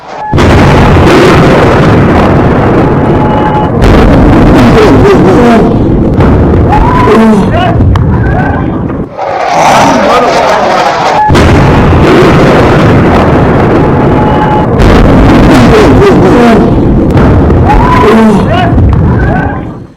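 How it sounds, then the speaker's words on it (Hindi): Missile strikes on Tehran, the Iranian capital, bring loud, dense booms and rumbling blasts that run almost continuously, with a brief lull near the middle before the barrage resumes. "तस्वीर आप देख रहे हैं, तेहरान पर मिसाइल अटैक हुआ है, ईरान की राजधानी पर।"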